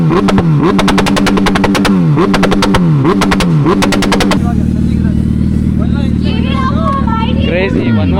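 A race-spec Suzuki Hayabusa revs hard in a rev battle at an auto show, with rapid, loud, repeated throttle blips and rising and falling wails, then a sustained high-rpm roar close by, with crowd noise around it.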